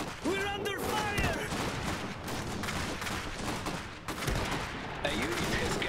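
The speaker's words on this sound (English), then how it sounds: "We're under fire!" Gunfire rattles almost without pause through a battle in the strategy game Iron Harvest, dense bursts and volleys layered with explosions and shouted unit voices and radio-like chatter throughout.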